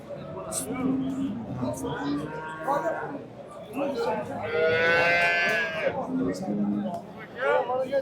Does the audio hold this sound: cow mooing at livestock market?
yes